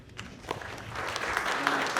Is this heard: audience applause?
yes